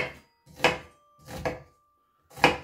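A knife chops onions into a rough dice on a cutting board in three separate thuds, spaced roughly evenly and close by, with no talking.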